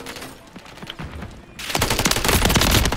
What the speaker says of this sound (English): When you shoot people and you don't kill them.